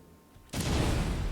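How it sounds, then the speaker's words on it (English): A WW2-style tank cannon fires in the Stormworks game: a sudden loud blast after a quiet moment, followed by a dense, sustained roaring rumble. "Let's go ahead and check the firing. I want to see the cannon."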